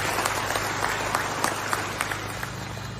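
Audience at a Malaysian political rally speech applauding steadily, a dense wash of many hands clapping with a few sharper claps standing out, moderately loud and continuous for about three seconds.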